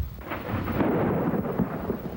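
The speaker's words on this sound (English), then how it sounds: "The dark clouds rolling in had already produced severe thunderstorms to the west of the area." A severe thunderstorm sweeps in with high winds, bringing a continuous, loud rumble of thunder mixed with rain noise throughout, with no voices present.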